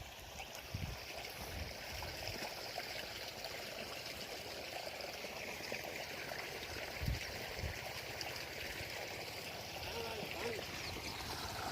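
Water from a pump flows and spreads across a farm field, a soft continuous trickling stream with occasional faint knocks, heard at low level.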